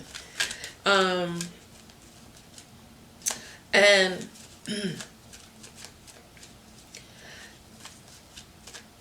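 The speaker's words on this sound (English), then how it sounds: "I have to shuffle just in case I decide I want to pull a card" Tarot cards are shuffled in a few brief riffling bursts between short stretches of speech, crisp and close against a quiet room.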